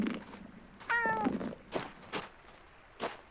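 Cat meowing in a medieval combat video game, one clear drawn-out meow near the middle amid quieter scattered game sounds and soft thumps.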